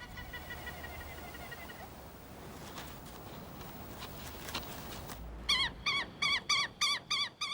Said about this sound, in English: The piercing cry of this little lapwing warns them of approaching danger.